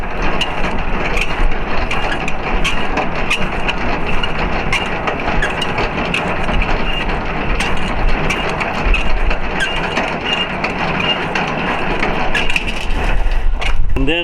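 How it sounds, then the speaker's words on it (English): Landing gear dollies on a semi-trailer being cranked down by hand, a continuous close mechanical grinding and rapid ratcheting clatter that runs steadily for the whole stretch, with a brief change near the end. "So we're going to go ahead and crank the dollies down."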